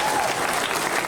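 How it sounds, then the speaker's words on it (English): A brief, dense wash of crowd clapping at a tiger show at a Gold Coast theme park, loud and close for about a second. "give him a nice big clap, guys."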